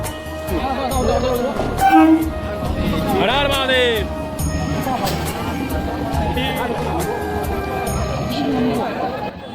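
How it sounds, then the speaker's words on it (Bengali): A train pulls into a crowded station during the Tarakeswar pilgrimage. Horn blasts and rail rumble sit under constant crowd chatter and nearby voices. "দেখতে দেখতে আমাদের ট্রেন চলে এলো"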